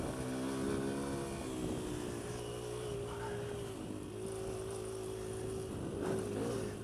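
A Kawasaki KLX140L dirt bike's small low-slung engine runs steadily through a ride, a continuous droning hum with slight shifts in pitch as the throttle rises and eases.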